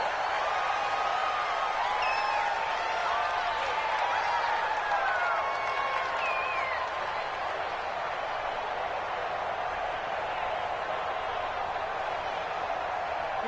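Stadium crowd noise in an American football video game on PS4, a broad continuous roar with scattered whistles and shouts, under a commentator's voice.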